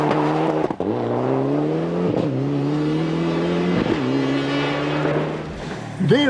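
A Group N rally car at the 2001 Tour de Luxembourg Rally accelerates hard, its loud, close engine climbing in pitch through several quick gear changes, with a brief higher whine at the end.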